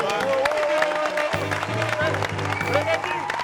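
Audience clapping at a martial arts self-defence demonstration, a moderate crowd applauding steadily under ongoing voices and background music.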